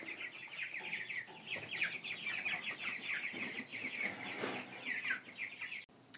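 Several chickens cluck and chatter continuously in a village coop, their overlapping calls close and busy throughout, with no one speaking.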